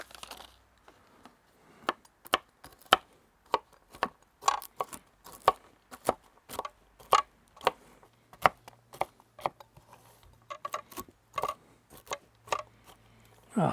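A knife chops halved walnuts on a cutting board, producing sharp, irregular taps in quick bursts. The chops are close and crisp against quiet background, with no talking.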